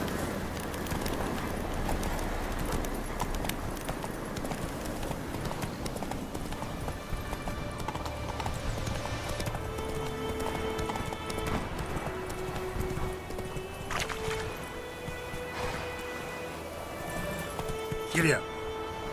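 Horse galloping in The Witcher 3: Wild Hunt, steady hoofbeats running throughout at a constant level, mixed with game music and ambience, with a brief sharper sound near the end.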